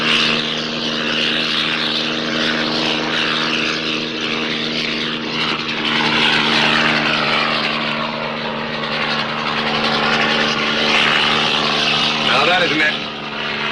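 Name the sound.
helicopter flying overhead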